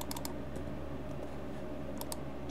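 Keys on a computer keyboard are tapped as numbers are entered, giving a few quick, soft clicks in small clusters over a low, steady background hum.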